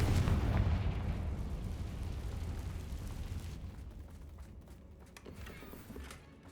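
A Confringo fire spell explodes in the Hogwarts Legacy video game, one loud booming blast at the start that rumbles and slowly decays over several seconds.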